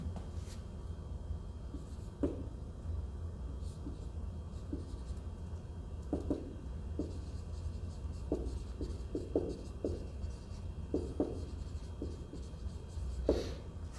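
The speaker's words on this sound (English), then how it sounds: "And so I can write this down kind of like this." Pen writing notes on paper during a chemistry lesson on Bronsted–Lowry acid-base theory, a steady close scratching with irregular taps and strokes over a low background hum.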